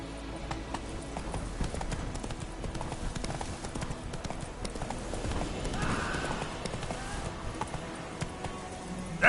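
Roach, a horse in The Witcher 3, gallops with a continuous quick clip-clop of hooves that stays fairly faint under game ambience, with a brief whinny partway through.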